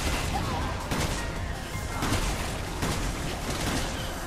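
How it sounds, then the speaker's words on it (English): Shotgun fire in Resident Evil 6's Mercenaries mode comes as several heavy blasts roughly a second apart over a dense, noisy game soundscape. "I'm shooting you with a shotgun!"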